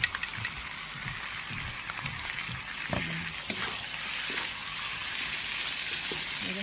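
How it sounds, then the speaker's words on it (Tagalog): Heated pork broth hisses and sizzles in a hot pot already holding tomato sauce, a steady close frying crackle with scattered pops and stirring clinks. "At lalagyan natin ang ating pork broth na naminit."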